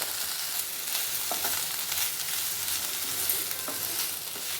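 Moringa leaf fry tossed with peanut powder in a hot pan gives a continuous bright sizzle, with intermittent scraping strokes of a spoon close by and no talking.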